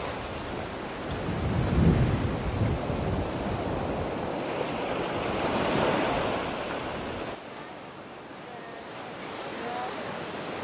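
Ocean waves crash and surge against the rocky shore at Tanah Lot temple in Bali. The roar is continuous and broadband, swelling loudest early on, then settling into a steadier wash. No voices are heard.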